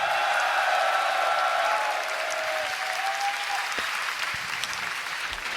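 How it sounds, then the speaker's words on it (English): Crowd applause and cheering fill the hall after a Loopstation small-final battle at the Grand Beatbox Battle 2024, a dense steady roar with whoops at first, easing slightly but staying loud throughout. "Make some noise for the small final battle."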